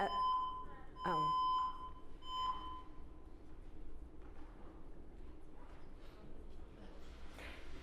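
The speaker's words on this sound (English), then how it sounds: "That was the planned alarm." A scheduled alarm sounds in a lecture hall, a few sharp electronic beeps at the start followed by faint room noise and murmuring.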